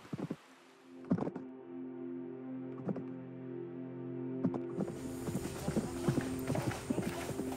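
Horse hooves clip-clopping on a film set, a run of distinct hoof strikes at a slow walking rhythm over a steady low hum, growing busier and noisier toward the end.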